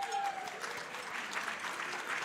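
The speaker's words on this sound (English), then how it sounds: "Truly an appreciative round of applause for all of these sponsors" An audience at a State of the City event thanks the sponsors with steady, dense applause from many hands, held at an even moderate level throughout, with faint voices mixed in.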